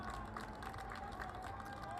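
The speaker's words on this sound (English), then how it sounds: "Everybody is celebrating. The crowd goes wild." A stadium crowd cheers and roars steadily after a batsman reaches a century in an over-50 zonal cricket match, South Zone vs West Zone, at Grand Prairie Stadium in Dallas, Texas. The sustained wash of cheering comes from a distance.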